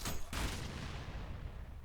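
Explosions go off in the fast shooter game ULTRAKILL: a sharp burst of booms at the start, then a second heavy blast that rumbles and fades away.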